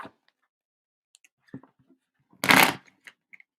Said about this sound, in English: This is why I should not shuffle with my eyes closed.